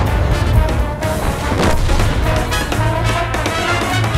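Tank cannon fire in World of Tanks mixed with repeated heavy booms and battle noise over a constant low rumble, including a strong blast near the one-and-a-half-second mark.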